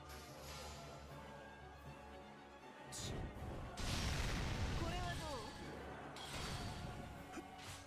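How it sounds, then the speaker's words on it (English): Fireworks bursting outdoors, with loud booms and crackling pops from about the three-second mark onward, muffled but strong over a steady background hum. "There's so many fireworks going off right now, and it's not even July 4th."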